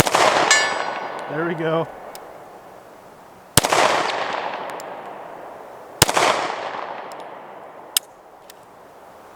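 An SCCY CPX2 pistol fires three sharp, loud shots spaced a few seconds apart, each with a long ringing echo, and a fainter metallic hit at the end. Someone speaks briefly before the second shot.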